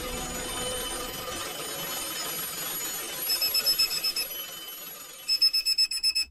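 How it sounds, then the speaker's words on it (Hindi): An electronic bell rings steadily, then breaks into quick repeated pulsing bursts near the end, loud and close with no voices. "पीछे स्कूल बेल बजे जा रही थी"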